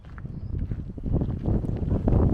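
Gusting wind buffets the microphone beside the 1909 Cape lighthouse on Kangaroo Island, a steady low rumble that swells and grows louder toward the end, with light rain in the air and no talk.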